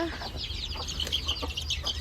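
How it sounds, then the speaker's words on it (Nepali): Hens cluck busily in a farmyard as grain is scattered for them, several birds overlapping in quick chattering bursts over a low steady rumble. "कुखुरालाई दाना दिन लागेको साथीहरू।"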